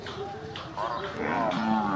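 A sacrificial calf moos at the busy Baishmouja cattle market in Brahmanbaria, several drawn-out lowing calls rising over crowd chatter and market noise.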